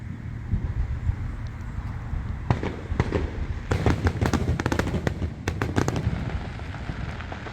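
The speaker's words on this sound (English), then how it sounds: "Which I'm hoping that that's the fireworks from the stadium." Fireworks explode over a stadium, heard from some distance as a rumbling wash of booms with rapid clusters of sharp crackling bursts in the middle of the stretch.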